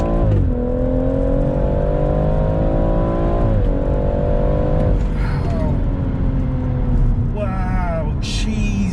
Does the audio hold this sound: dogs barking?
no